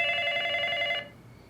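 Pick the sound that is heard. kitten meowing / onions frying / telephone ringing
telephone ringing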